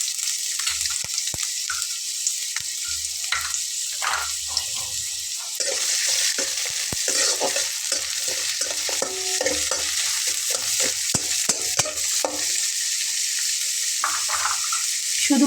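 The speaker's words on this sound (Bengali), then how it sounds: "শুধুমাত্র পেঁয়াজ এবং রসুনটা ভেজে নেব" Onion and garlic frying in oil in a wok, a loud close sizzle with frequent scraping and clattering stirs that grow busier midway, continuous and without talking.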